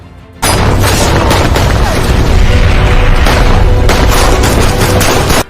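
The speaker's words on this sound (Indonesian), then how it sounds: "RPG pun ditembakkan." RPG rocket launch and explosion during a terrorist firefight in an action film, a loud sustained roaring blast with crackling debris and gunfire-like bursts lasting about five seconds.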